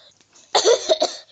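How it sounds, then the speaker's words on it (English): A single close, harsh cough bursts out in two or three rough pulses after a brief quiet moment. "I'm still coughing out of my lungs"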